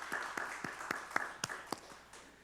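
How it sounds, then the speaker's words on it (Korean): A church congregation at Sunday worship claps in slow unison, roughly nine crisp beats at a steady pulse, faint and somewhat distant in a quiet room. "우리에게 늘 복되게 하신 하나님 앞에 감사의 박수 올려드립시다."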